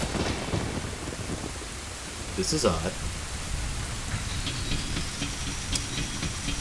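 Steady rain and rumbling thunder in The Legend of Zelda: Ocarina of Time, a dense hiss of downpour with low rolling thunder throughout, while someone speaks briefly over it.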